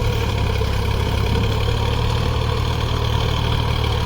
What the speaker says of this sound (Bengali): এখন তিন নম্বরে চলছে গাড়ি তিন নম্বরে তোমার হাল করছে ডবল দিচ্ছে